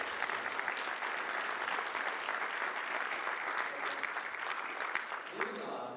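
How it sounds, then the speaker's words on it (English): An audience at a medical association's presidential address claps steadily for several seconds, a dense, even round of applause that tapers slightly toward the end. "now let's give them a round of applause"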